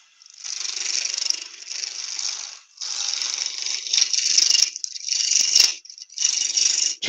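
A wooden apple blank, three by three by three inches, spins on a lathe as a spindle roughing gouge cuts it, giving bursts of bright rattling, scraping chatter separated by short pauses, close and fairly loud.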